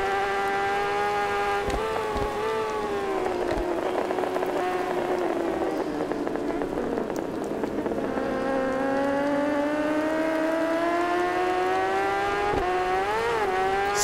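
In the RiMS Racing video game, a racing motorcycle's rear wheel spins up while the engine holds a loud, continuous high whine whose pitch dips and then climbs again, with no talking.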